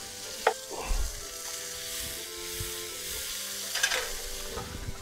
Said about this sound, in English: we're gonna chop our onion up, get that frying up in there too